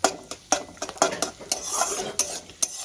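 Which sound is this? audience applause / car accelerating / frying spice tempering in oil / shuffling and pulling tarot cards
frying spice tempering in oil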